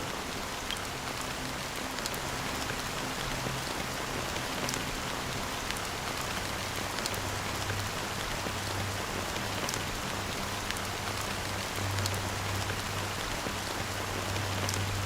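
Rain falls steadily in the video game Honkai: Star Rail, a dense even patter of drops on surfaces lasting the whole stretch, with a faint low hum underneath and no voices.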